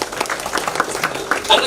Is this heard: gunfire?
no